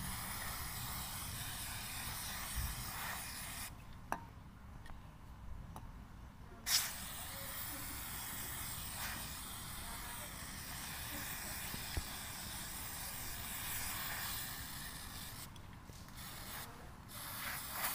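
Steady hiss of cleaner being sprayed into the air intake of a Toyota Etios taxi during servicing, continuous and close, with brief breaks and faint clicks.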